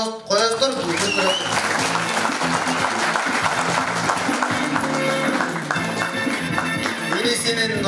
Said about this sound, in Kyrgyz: Кол чаап коесуздар.